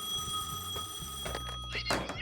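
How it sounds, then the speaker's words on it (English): A telephone ringing with a bright, trilling bell, fairly faint, mixed with a few low thunks and a steady high electronic tone. "The phone rang."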